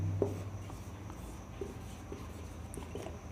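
A pen scratches out a math solution on paper, soft, intermittent strokes with small taps, close but quiet against a faint room hum.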